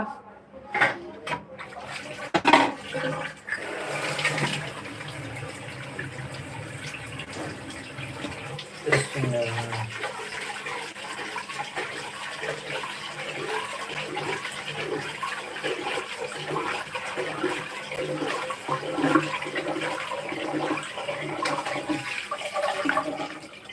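Water runs steadily and gushes at close range while fish are washed, a continuous broad rush with clattering and handling noises throughout and a person speaking intermittently over it.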